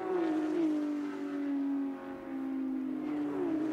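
Porsche GT3 Cup race cars at Sonoma drone past in a steady, loud engine whine that dips and rises slightly as they run down the straight, one blending into the next.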